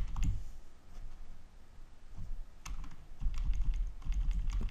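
Computer keyboard typing with hanja character input, a steady run of close key clicks and taps with brief pauses, no voices.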